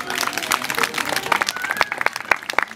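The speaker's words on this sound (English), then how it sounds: "Give him a round of applause." A crowd claps together in a dense burst of applause, with scattered louder claps standing out and a few faint voices mixed in.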